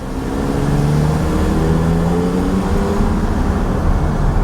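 Cabin drone of a 2018 Volkswagen Atlas SEL 4Motion on a test drive, a steady, fairly loud engine and road rumble with a low tone that rises slowly and evenly, heard from inside the vehicle with no talking.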